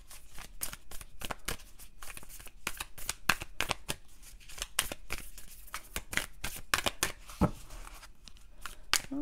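Tarot cards are shuffled continuously in a rapid, crisp riffling patter with sharp slaps and flicks throughout, close and fairly loud.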